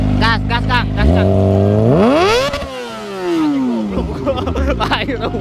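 A Kawasaki ZX25 motorcycle engine revs up sharply with a rising whine that peaks and then falls away, loud and close, as people talk around it.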